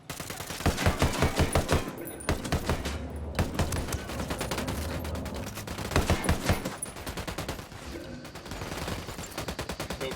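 Sustained gunfire in a Ghost Recon video game, rapid automatic bursts and shots crackling continuously and loudly, with brief pauses between volleys and faint radio voices beneath.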